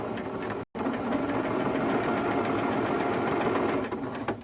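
A sewing machine stitches quilt blocks in a chain, a steady rapid mechanical whir and needle clatter running continuously at close range, broken only by one very brief stop near the start.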